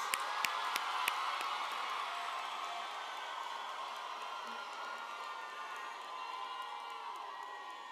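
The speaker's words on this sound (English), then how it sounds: "graduates, stay standing because I want you to applaud your own success" Graduates at a university graduation ceremony applaud and cheer together, a loud, dense crowd roar of clapping, whoops and shouts with a few sharp claps standing out, sustained throughout and slowly easing.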